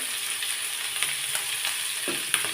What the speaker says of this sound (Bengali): এখন ঢাকনাটা ঢেকে আমি মাছটা ভাজি করে নেব